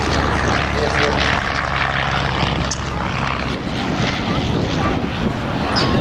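A vintage triplane flying aerobatics at an airshow, its propeller engine droning and shifting in pitch at a distance, with wind buffeting the microphone and a commentator talking over it.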